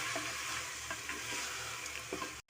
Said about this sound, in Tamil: எல்லா பருப்பையும் போட்டு நல்லா கலந்து விட்டுருங்க